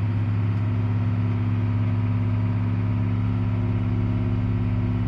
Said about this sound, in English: So my PTO is now running, building up the revs.